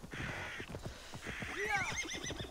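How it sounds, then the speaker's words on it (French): A horse in the Assassin's Creed Valhalla video game whinnies loudly in a rising, wavering neigh over steady clip-clopping hooves and game ambience. "qu'est-ce qu'il me fait le cheval"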